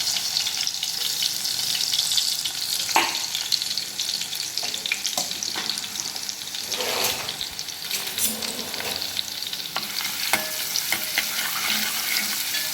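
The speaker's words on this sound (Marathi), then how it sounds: "तेल घातलेलं आहे याच्यामध्ये आता हा लसूण घालून घेऊया" Garlic sizzles in hot oil in a pan for a leafy vegetable dish (vaav bhaji), a steady close crackling frying hiss with occasional stirring scrapes and no talk.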